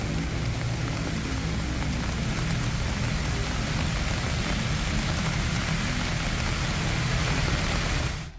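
Heavy rain pours down during the Jakarta floods, a dense, loud, unbroken hiss of falling water that stays steady throughout, with no voices.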